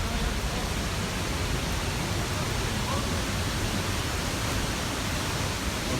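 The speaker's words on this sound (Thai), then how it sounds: "น้ำตก" A waterfall roars as a dense, steady rush of falling water. It stays loud and constant for the whole stretch, with no breaks.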